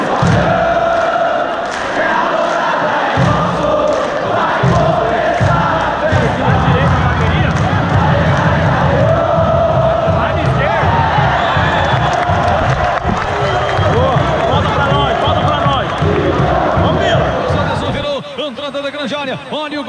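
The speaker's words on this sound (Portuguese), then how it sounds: "E a torcida tá apoiando, tá empurrando." Football supporters of Vila Nova packing a stadium during a 0-0 match against Paysandu, cheering and chanting loudly and continuously in a dense, roaring crowd swell that carries steadily throughout.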